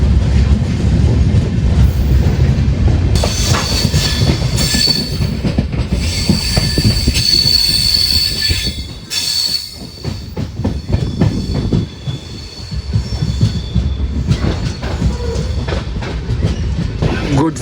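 The Nagercoil Gandhidham Express runs on its rails, a loud, constant rumble with rhythmic wheel clatter and high squeals. The roar briefly dips midway before building again.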